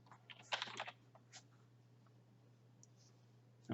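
Faint computer keyboard typing while entering a chart axis title in Excel: a quick cluster of light key clicks, then a few scattered taps over a steady low hum, ending in a louder thump.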